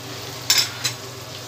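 Onions frying with garam masala in a pan for mutton pulao: a low, steady sizzle with two quick scraping stirs of a spoon near the start.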